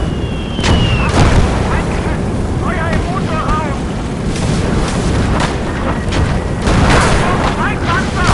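Mortar rounds explode in the World War II video game Gates of Hell, heavy rumbling booms rolling under constant battle noise and excited talking.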